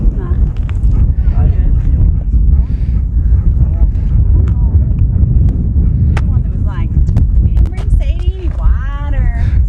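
Wind blows steadily across an open grassy mountain bald on the Blue Ridge Parkway, a constant low rumble of buffeting against the microphone, with a person talking over it.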